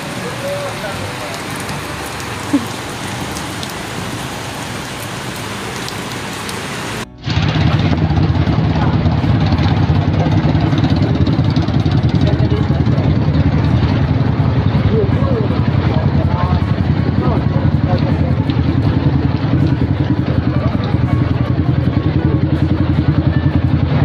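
Motorcycles ride through a flooded street in Cilegon during heavy flooding, with loud continuous water splashing and rushing under steady engine rumble, close by and sustained; people talk throughout.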